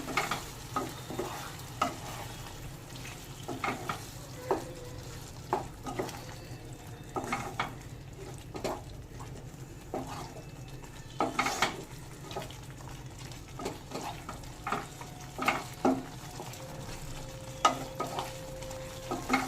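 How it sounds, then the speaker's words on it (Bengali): Chicken with poppy-seed and cashew paste and a splash of water is stirred and mixed in a pan for a coconut poppy-seed chicken curry, with soft sizzling and frequent spatula scrapes and knocks throughout. "এবার আবার সব মিশিয়ে নেব ভালো করে"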